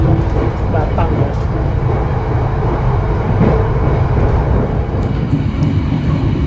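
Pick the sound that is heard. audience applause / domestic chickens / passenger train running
passenger train running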